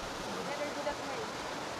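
A deep waterfall roars as a constant broad rush of falling water, steady and moderately distant, with a voice speaking faintly over it.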